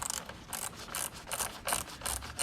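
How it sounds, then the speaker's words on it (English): A small quarter-inch drive ratchet clicks in quick repeated bursts while motorcycle triple clamp screws are tightened, its pawl ticking close and crisp with short pauses between strokes. "here you can use a small 1/4-inch driver too, but I really like this little one"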